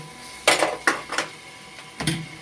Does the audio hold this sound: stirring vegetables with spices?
yes